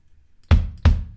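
Two deep, dull kick drum strikes using the oyster thud preset of the oyster kick in the Modo Drum software, close and loud with quick decay, alone without talk.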